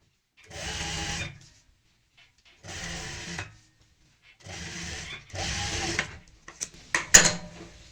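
A sewing machine stitches a seam on a skirt palazzo in three short, even runs separated by silences, then gives way to a flurry of clicks and handling knocks at the end.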